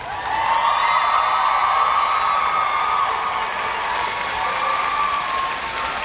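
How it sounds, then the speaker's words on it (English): A large graduation audience claps and cheers in a steady, loud wash of sustained applause that holds evenly throughout. "Please give them a round of applause"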